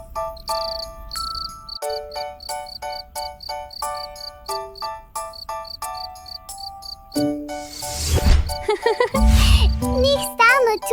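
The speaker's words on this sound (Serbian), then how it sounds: "a mužjaci proizvode cvrčanje trljanjem krila" A cricket chirps in the grass and meadows, rubbing its wings. It gives short, bright, evenly repeated pulses over a tonal cartoon-style backdrop. A voice speaks over the busier final few seconds.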